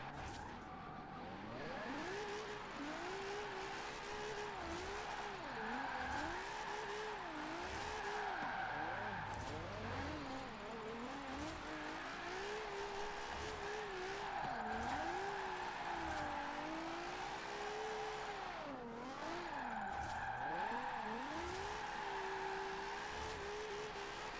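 A Nissan 370Z drifts in Forza Horizon 4, its engine droning and swooping in pitch as the revs rise and fall, with sustained tire squeal and skidding throughout a long continuous run.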